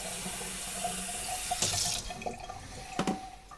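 Water runs steadily from a kitchen tap into a container while measuring water for veggie stock, a continuous close splashing stream with a couple of brief clunks and splashes near the end.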